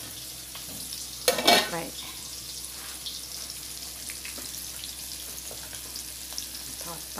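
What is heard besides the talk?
food frying in a pan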